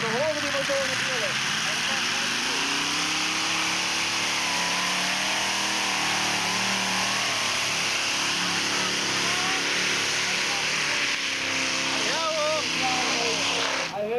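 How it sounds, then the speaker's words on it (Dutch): Red Devil pulling tractor at a 1991 tractor pull in Sint Geertruida, its engine roaring and revving continuously at high, strained pitch, with a commentator talking over it. "En dan horen die motoren trillen."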